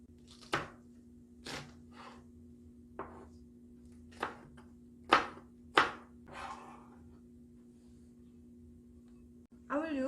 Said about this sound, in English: chop 1 green chili, it's spicy.